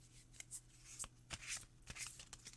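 Tarot cards from a Starman Tarot deck are shuffled close up: a quiet series of crisp riffling and slapping bursts in an irregular rhythm, heard alone without talk.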